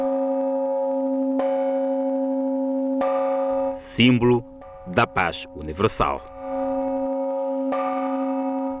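A peace bell rings at a wreath-laying memorial ceremony at the monument to the unknown soldier in Luanda: long, sustained metallic tones struck roughly every few seconds, with a reporter speaking over the middle stretch.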